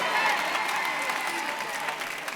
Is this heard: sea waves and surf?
no